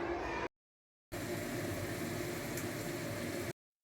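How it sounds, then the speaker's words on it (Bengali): Dried shrimp frying in a wok with potato and onion greens, a steady hissing sizzle broken by a short silent gap, with no talking. "আলু আর পেঁয়াজ কলির সাথে এবার ভালো করে এই শুঁটকিটা ভেজে নিতে হবে"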